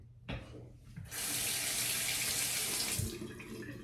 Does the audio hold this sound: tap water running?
yes